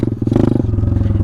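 Coleman minibike engine running close by while riding through mud, a loud rapid pulsing putter with a scraping, clattering texture as a fence drags against the bike.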